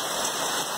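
Heavy rain pours down hard in Ubatuba, São Paulo, a dense, loud, continuous hiss of drops hitting surfaces close by, heard alone in a brief burst.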